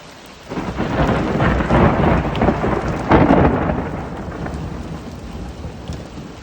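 Steady heavy rain from a mountain afternoon thunderstorm pours down with deep rumbles of thunder swelling and rolling through, loudest in the middle before easing slightly.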